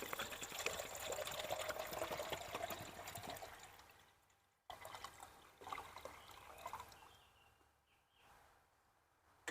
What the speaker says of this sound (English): So now I'm going to fill this little pot with a quart of water.